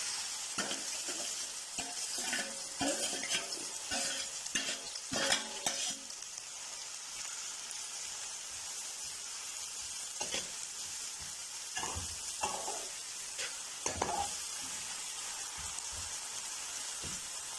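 Chopped onions and cloves frying in a pan for fish curry, a continuous bright sizzle broken by clusters of clattering stirring scrapes at the start and a few more strokes later.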